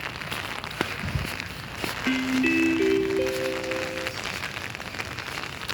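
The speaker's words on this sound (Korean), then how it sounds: "비가 옵니다." Rain patters on a surface in a soft, steady crackle, with a few sustained musical tones rising over it midway and scattered louder drops.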